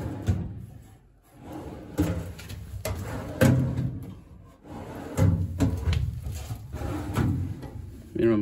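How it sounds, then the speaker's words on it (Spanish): Drawers of a Craftsman tool chest slide open and shut again and again, each a brief rolling rattle ending in a knock, heard close by, with some low voices in the room. "Salen muy bien los cajones"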